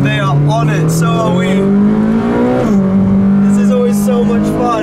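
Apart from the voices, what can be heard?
Ferrari engine revving while driving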